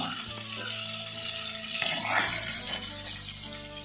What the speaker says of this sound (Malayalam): ഇതേപോലെ തിരിച്ചും മറച്ചൊക്കെ ഇട്ടിട്ട് ഇതിങ്ങനെ വഴറ്റിയെടുക്കണം